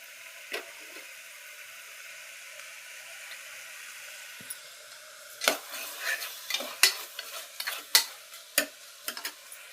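Tomato and onion pieces soften in a pan for mutton curry with a low, quiet sizzle. About halfway through, a spoon starts stirring and scraping against the pan with a run of sharp clatters, and no one speaks.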